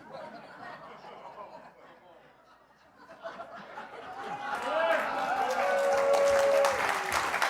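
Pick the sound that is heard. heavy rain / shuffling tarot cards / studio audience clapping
studio audience clapping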